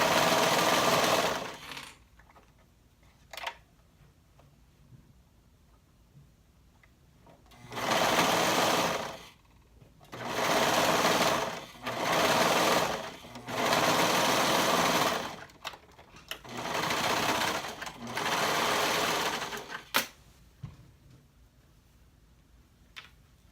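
A sewing machine stitches a flutter sleeve seam onto a bodice, matching it to the side seam, in several loud bursts of a few seconds each separated by quiet pauses.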